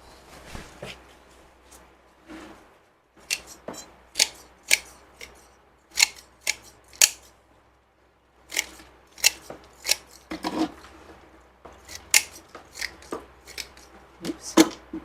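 Scissors snip repeatedly through juniper bonsai roots during repotting, a run of crisp close cuts in uneven bursts with short pauses between groups.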